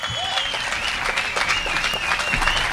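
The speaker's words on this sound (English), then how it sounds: "Give him a big round of applause," An audience at a political talk for Southwest Wisconsin Patriot applauds Ivan Raiklin, loud continuous clapping with crowd noise and a few raised voices throughout.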